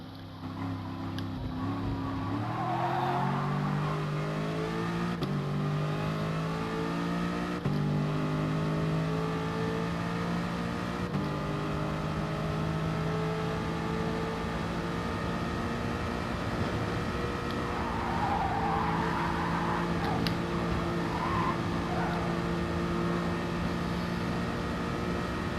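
Race car engine in GT Sport with manual gears, droning steadily through a lap, pitch rising and dropping with gear changes, loud and continuous with no talking.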